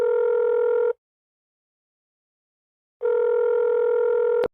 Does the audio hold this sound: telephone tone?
yes